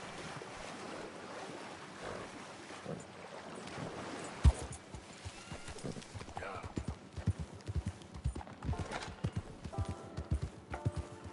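Horse hooves clip-clop at a steady pace in the Red Dead Redemption 2 video game, a rhythmic run of soft thuds over a wash of wind and ambient noise, growing more distinct and regular toward the end.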